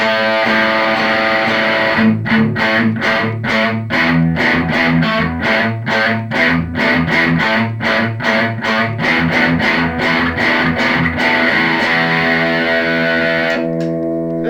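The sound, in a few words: electric guitar with distortion effect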